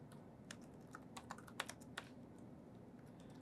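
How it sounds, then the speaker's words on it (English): Quiet, close typing on a computer keyboard, a steady patter of light key clicks with a few sharper taps and no voices. "Now I'm going to start typing."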